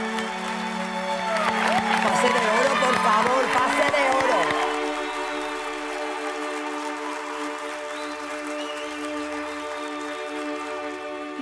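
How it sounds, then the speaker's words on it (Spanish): Studio audience applause and cheering at a Spain's Got Talent audition, a broad loud wash for the first few seconds that fades as voices take over and talk continues over a low hum. "Este aplauso por todos vosotros."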